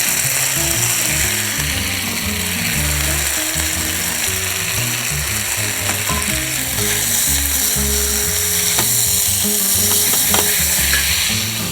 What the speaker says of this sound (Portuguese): O salmão já baixei a temperatura da grelha, está a continuar a cozinhar